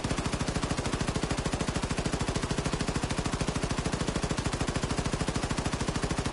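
Sustained rapid-fire machine gun bursts in Wolfenstein II: The New Colossus, a loud, evenly spaced stream of shots repeating without pause for several seconds, with no voices.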